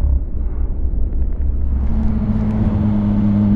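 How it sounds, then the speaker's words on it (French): Deep rumbling idle of an old Ford Mustang muscle car, loud and close, rising into a throaty steady drone with a strong low engine tone as it pulls through. "Oh, la vieille Mustang"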